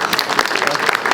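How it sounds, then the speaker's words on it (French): A brief burst of audience applause at a horror film event in Boulogne, lively clapping heard close and mixed with talk. "Ah, on peut se lever, bravo, on l'applaudit."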